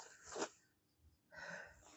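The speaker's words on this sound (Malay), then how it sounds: "Kan mak cakap nak bersin" A single sharp sneeze bursts out early, followed by a pause and then a longer breathy exhale or snort, close and fairly loud in a quiet room.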